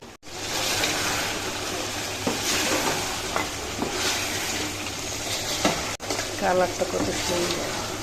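Spiced meat sizzles and fries in a pan of cooked-down masala while it is stirred, a steady close crackle with occasional scraping and no talking.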